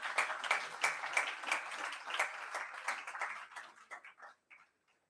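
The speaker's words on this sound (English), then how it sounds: "A big round of applause" Scattered hand clapping from a modest crowd, fairly quiet, thinning out to a few last isolated claps before fading away.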